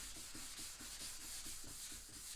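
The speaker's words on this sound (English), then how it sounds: "have a liquid with wet sanding, right, you have a fine sandpaper" Walnut burl being wet sanded with Restore Finish as a lubricant: a soft, rhythmic back-and-forth rubbing of fine sandpaper, close and quiet, with regular strokes about three per second.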